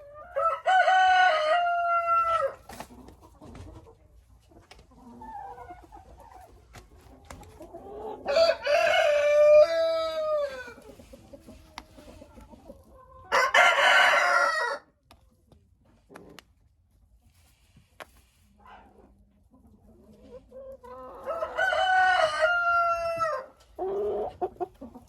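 Hens clucking in bursts in a backyard poultry enclosure, with a rooster crowing among them, loud and close, separated by quiet pauses.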